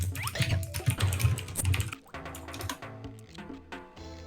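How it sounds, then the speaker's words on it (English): A loud mechanical computer keyboard clatters with rapid, uneven keystrokes close up, mixed with other bubbly, musical sounds. "My super loud mechanical keyboard"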